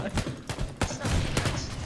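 In the PUBG battle royale game, several sharp gunshots crack in quick succession amid a burst of firing, loud and close, with some voice chatter underneath.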